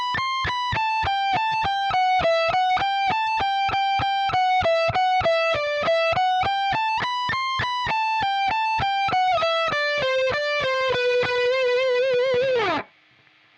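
A heavily distorted electric guitar plays a solo slowly, a continuous run of sustained, rapidly picked notes that drifts in pitch and ends abruptly in silence.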